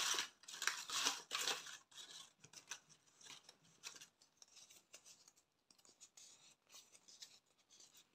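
Scissors snip through sheets of green scrapbooking paper in a series of close, crisp cuts, busiest in the first two seconds and then sparser, quieter snips and rustles, with no talking.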